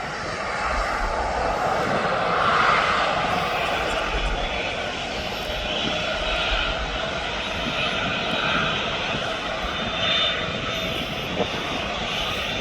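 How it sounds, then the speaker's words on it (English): Airbus A330 jet engines roar steadily at Birmingham International Airport, a loud continuous broadband rumble and whine from a departing airliner that swells slightly and holds for the whole stretch, with wind-like hiss over it. "So there goes the A330."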